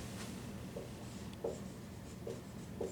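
Chalk or marker writing a formula on a board during a mechanics of materials lecture on torsion of circular shafts, a few faint short strokes and taps over quiet room noise, no talking.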